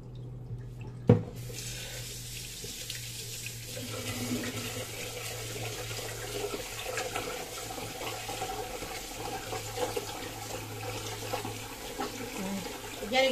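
Tap water runs steadily into a kitchen sink as rice is rinsed, a constant close splashing stream after a brief knock at the start, with no talking.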